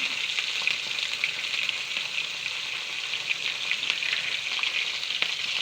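Nigella seeds, green chilli and tomato sizzle steadily in hot oil for fish curry with brinjal and mustard, a dense continuous crackling hiss held close and even throughout, with no talking.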